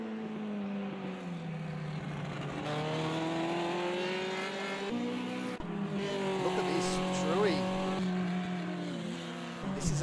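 Historic Formula Junior race cars at Imola drone and rev steadily through a gear change, with an engine note rising and falling as cars pass in a continuous loud stream, mixed with faint tire noise.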